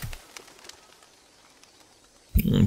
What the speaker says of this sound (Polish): Ptaki się zerwały, bez przesady.